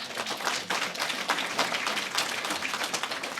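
An audience at a 2019 Camas mayoral debate claps in a dense, sustained round of applause that runs steadily throughout, moderately loud and without voices over it.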